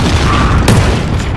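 A grenade blast booms in Call of Duty Modern Warfare, a loud, dense wash of rumbling noise filling the whole moment with a brief sharper crack partway through.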